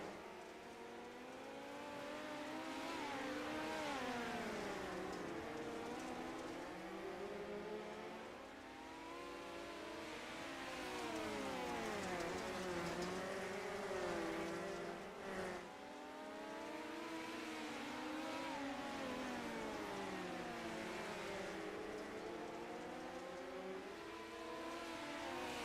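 Simulated race cars roar through an eight-lap heat in the iRacing sim game, a six-car field whose engines rise and fall in overlapping sweeps, steady and loud throughout with no talking.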